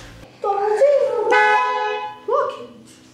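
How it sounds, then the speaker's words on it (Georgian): A Mercedes-AMG car horn sounds in two blasts close by, a long sustained honk followed by a shorter one, with a brief voice at the start. "ვინ ჩასვა სიგნალი?"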